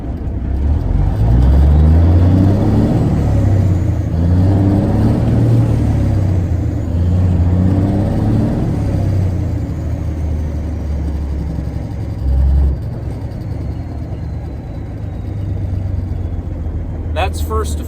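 A 1983 Kenworth K100 cabover truck pulls away and accelerates up through first to fourth gear, its diesel engine rumbling loud and close from inside the cab, with pitch rising and dropping at each shift while people talk.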